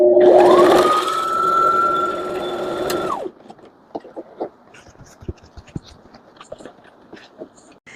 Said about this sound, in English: we're just going to do a straight stitch across